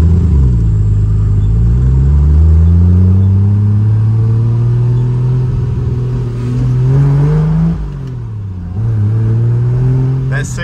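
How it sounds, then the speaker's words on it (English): A 1973 Triumph GT6 with an inline six-cylinder engine drives along, the loud close engine note rising and falling through shifts and revs, with a voice speaking over it. "Six-cylinder just sounds awesome."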